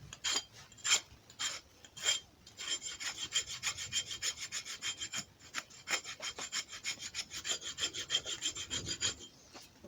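A blade being sharpened with a stone outdoors in a wet private woodland, a rapid run of rhythmic rasping strokes, close and fairly quiet, with a few short pauses between bursts.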